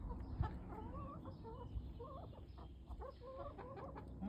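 Backyard chickens clucking softly nearby, a loose flock trading short murmuring calls and rising warbles in quick succession against quiet outdoor background.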